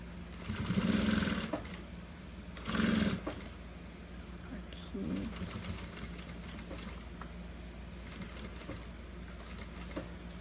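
A sewing machine stitches a document holder in short, rapid bursts of mechanical whirring, three distinct runs separated by pauses, over a steady low hum.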